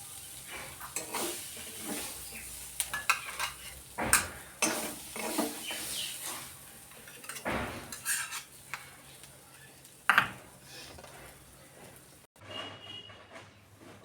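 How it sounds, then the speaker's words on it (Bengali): Leafy greens stir-fried in a pan in a home kitchen, with a soft sizzle under repeated scraping and clanking of a metal utensil against the pan, in several sharp, close bursts, before the sound cuts away near the end. "এই দেখো শাক ভাজা হয়ে গেছে"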